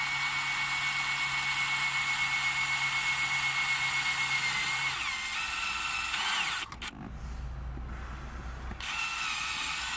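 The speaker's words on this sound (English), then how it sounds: "I'm going to get my 3/16 drill bit and slowly drill." A 3/16 drill bit is slowly boring a hole while a dash mount is installed in a Toyota 4Runner. A steady, close mechanical whine runs for several seconds, then shifts and breaks off briefly before resuming.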